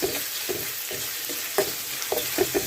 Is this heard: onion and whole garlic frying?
yes